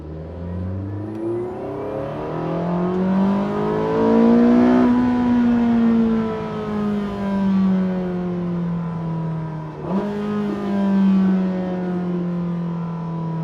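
A Porsche 918 Spyder hybrid hypercar accelerates hard in race mode, the engine rising in pitch through a long pull, then dropping at a gear change before climbing again, loud and close from inside the car.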